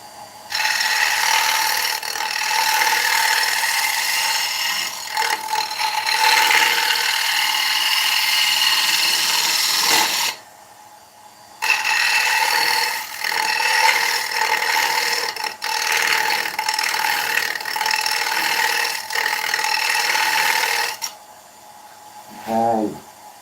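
Gouge making shear cuts across an oak bowl on a woodturning lathe, a loud continuous hissing scrape in two long passes broken by a short pause, then a brief tonal whir near the end.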